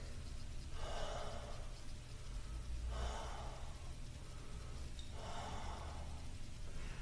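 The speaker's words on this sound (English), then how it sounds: "3 deep breaths" Three slow, deep breaths taken during a standing stretching exercise, each a soft, airy inhale and exhale evenly spaced and close to the microphone, with no speech between them.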